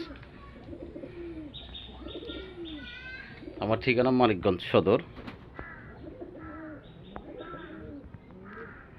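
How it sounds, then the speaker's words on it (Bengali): Local colored Golla pigeons coo and call repeatedly at a pigeon farm in Manikganj, Bangladesh, with a louder burst of calls in the middle while someone talks over them. "সব দেশি কালারিং গোল্লা কবুতর।"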